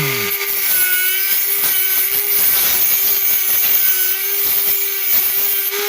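A Dremel rotary tool grinds a Big Dog motorcycle stator primary, giving a loud, continuous high whine with a steady motor tone and rapid scraping pulses throughout.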